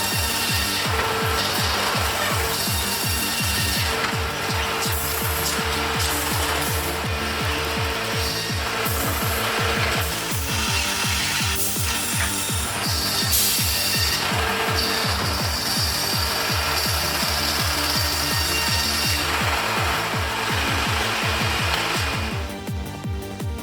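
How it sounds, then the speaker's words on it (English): An automated sawmill feeding and cutting logs, with a steady loud mechanical drone and rapid rhythmic rasping strokes running throughout, close and continuous with no speech. "The automated feeding and cutting process is incredibly efficient, minimizing waste and maximizing yield."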